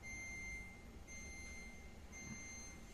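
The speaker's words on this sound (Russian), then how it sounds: "И, кстати, есть тут светозвуковая сигнализация." Steady electronic beeping from the door alarm of a Beko B5RCNK403ZWB two-door fridge-freezer, with repeated high tones over a low background hum, fairly faint and with no talk.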